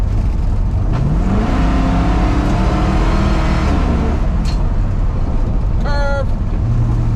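A truck engine fitted with an Edelbrock 1405 carburetor revs up loudly, with pitch climbing and falling through a couple of throttle pulls over a constant rumbling idle, close by, with a short squeal near the end.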